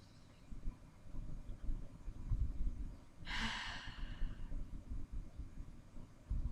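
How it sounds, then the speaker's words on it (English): A deep breath drawn in and let out, a single soft airy whoosh of about half a second, close and faint against a quiet background hum, in a meditative chant session. "Take a deep breath in and out."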